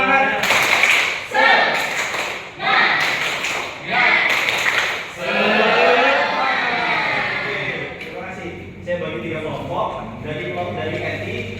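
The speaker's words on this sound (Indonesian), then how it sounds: "Ayo, tepuk semangat ya." A group performs a rhythmic spirit clap, loud clustered bursts of clapping repeating in a steady pattern, followed by voices chanting together in unison.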